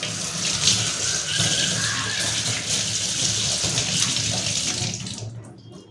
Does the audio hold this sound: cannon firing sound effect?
no